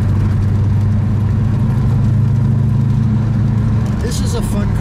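A 1967 Plymouth Belvedere GTX with a 426 Hemi and 4-speed runs close by, its engine holding a deep, steady, lumpy rumble throughout, briefly joined by a faint higher sound near the end.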